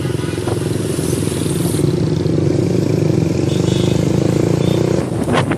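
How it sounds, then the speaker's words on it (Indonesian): A poorly serviced motorcycle engine idles steadily and loudly, a rough continuous rumble heard up close from the rider's position in traffic. "Ini maklum bro, motor nggak pernah servis. Jadi ya begini adanya."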